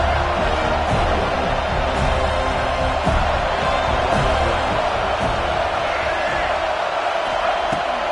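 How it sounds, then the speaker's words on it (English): A college football stadium crowd in an Alabama versus Florida State game roars continuously on a fourth-down play, a dense, sustained wall of noise with faint thumps under it. "Fourth down, and this crowd is making it miserable on this offense."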